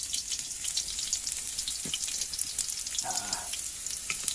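Washed shrimp sautéing in a pan give a faint, even hiss of frying, with a couple of soft stirring or clinking sounds partway through.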